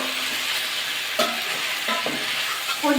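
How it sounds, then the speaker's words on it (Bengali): Cauliflower, soybean and potato are stir-fried in spice masala and oil, a continuous close sizzle with spatula scrapes and stirring knocks near the middle and end. "এবার কপি সোয়াবিন আলুটা দিয়ে দেবো একসাথে একটু কষিয়ে নেবো"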